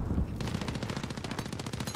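Rapid automatic gunfire from a custom-built gun in Warzone, a steady fast burst of close, loud shots running the whole time with no talk.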